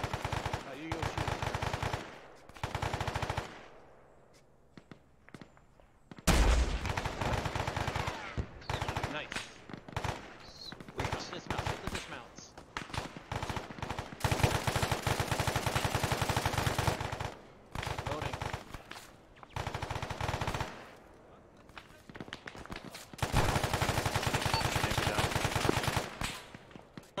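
Repeated automatic and single-shot gunfire in the ARMA 3 military shooter, loud bursts coming in stretches with short pauses, while players talk over the shooting.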